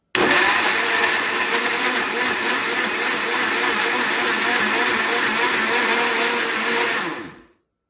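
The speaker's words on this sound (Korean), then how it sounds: "물을 넣고 갈아주는데요" A blender whirs loud and steady for about seven seconds, grinding detox juice ingredients with milk, close and alone before cutting off abruptly.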